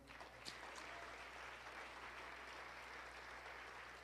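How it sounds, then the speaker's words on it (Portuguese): A church congregation at a national apostolic vigil claps in a dense, sustained round of applause that fills the space evenly for several seconds, heard from a distance with no speech over it. "Dá uma salva de palmas bem forte ao Senhor."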